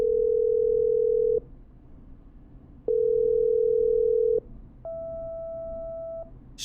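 In the video game Killer Frequency, a phone line connects a call: two long, steady electronic tones separated by a short pause, then a higher dual tone, clean and close with no talking.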